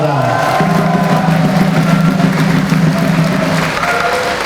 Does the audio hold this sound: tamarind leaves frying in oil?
no